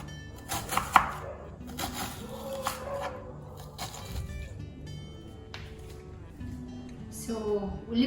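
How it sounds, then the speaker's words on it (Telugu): A knife chops green chillies on a board with a run of sharp, uneven taps and knocks, close up, while a voice speaks intermittently in the background. "పచ్చిమిరపకాయలు ఇలా కట్ చేసుకోవాలి"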